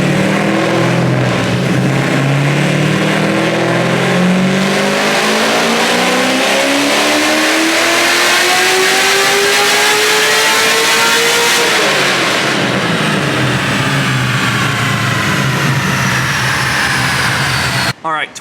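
A Smeding 441 cubic inch LS3 V8 revs hard on a chassis dyno during tuning, its loud engine tone climbing steadily through a long pull before dropping off near the end, with a voice underneath.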